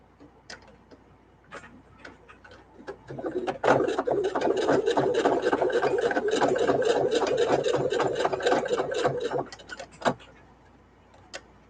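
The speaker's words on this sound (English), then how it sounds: "now I'm just going to go ahead and give them a final sew" Sewing machine running a final seam over fabric masks, a rapid even needle chatter sustained for about six seconds, framed by scattered clicks and handling of cloth before and after.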